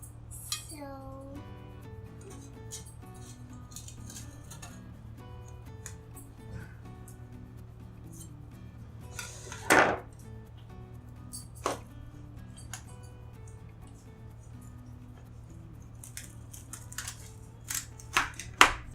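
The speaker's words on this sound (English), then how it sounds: "you can get the cake out of the pan just very carefully" Cake lifted carefully out of a baking pan for an orange cake, with scattered soft clinks and scrapes of metal utensils and a pan, faint and intermittent over a steady low hum.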